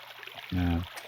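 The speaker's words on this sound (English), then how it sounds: "A steady trickle of water begins to trickle to the ground, slowly flooding the small hut." Water from a cracked gourd in Neverwinter Nights spills to the ground inside a small hut, a brief low gurgling splash lasting about a third of a second over a quiet background.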